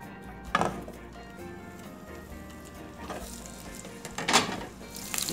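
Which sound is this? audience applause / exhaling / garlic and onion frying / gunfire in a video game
garlic and onion frying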